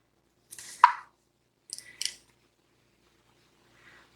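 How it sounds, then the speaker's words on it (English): Scissors snip excess paper off a post-it note for a DIY planner: two or three short, crisp cuts close up with a quiet pause between them, then a faint rustle, no talking. "I'm going to cut out the extra post-it"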